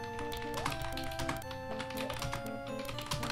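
Rapid keyboard typing during a session of Mario Teaches Typing, a steady run of quick clicks layered over game music with sustained tones, close and continuous.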